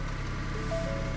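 A 2017 Ford Edge Sport's 2.7-liter twin-turbo EcoBoost V6 idles with a steady, smooth low hum and faint higher whine, heard from inside the cabin without talk.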